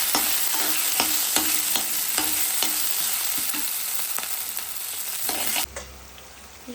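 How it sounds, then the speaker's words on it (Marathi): Ground masala paste sautéing in tempered oil on a griddle for a thin fenugreek leaf bhaji, with a constant close sizzle and regular scraping stirs of a spatula, then a sudden drop to quieter frying at the end. "मी फोडणी दिली आणि हे वाटण टाकणार"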